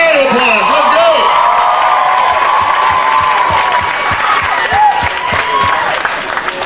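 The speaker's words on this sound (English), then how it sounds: "give both the event planner and the parents a big round of applause" A crowd at a high school grad night hypnotist show breaks into loud, sustained applause with cheering and whoops. Whistles and shouts rise over the clapping, close and dense throughout.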